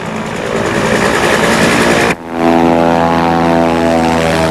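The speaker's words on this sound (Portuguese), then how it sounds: "o avião passou sobre os iurtes" A propeller airplane flying low over yurts in Mongolia, a loud droning engine with a buzzing whine that shifts sharply in pitch partway through as it passes overhead.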